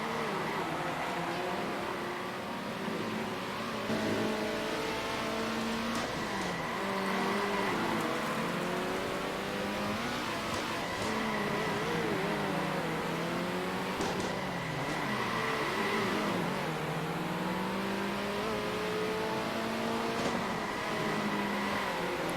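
Several race cars in Circuit Superstars drive and overtake, their engine whines overlapping and sweeping up and down in pitch as they accelerate and brake through corners, steady and continuous with no speech.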